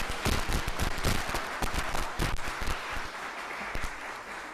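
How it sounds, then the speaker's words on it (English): A round of applause from a congregation after live music: uneven, moderately loud clapping with distinct individual claps standing out near the front, tapering slightly toward the end. "It is now time for another round of applause."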